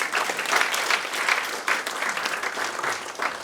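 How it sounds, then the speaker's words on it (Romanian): An audience at a live stand-up comedy show claps enthusiastically, a dense patter of many hands with a few louder claps standing out, sustained throughout. "Ok, aplauze pentru ei"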